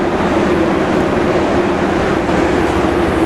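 A train waiting at a platform in Sealdah station, with a loud continuous low rumble and hum that stays constant throughout and has no talking.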